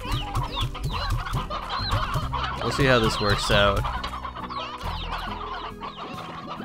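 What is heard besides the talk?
hens clucking in video game Slime Rancher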